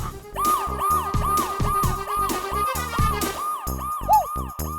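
A police inspector's car pulls up with its siren wailing in a fast repeating yelp, loud and close, cycling evenly about ten times with a low engine rumble beneath and no talk.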